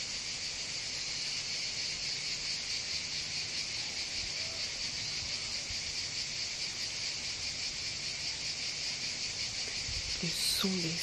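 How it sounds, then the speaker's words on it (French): Cicadas drone in a summer outdoor setting, a constant loud shrill buzz holding steady throughout, with a brief soft rustle near the end. "Le son des cigales."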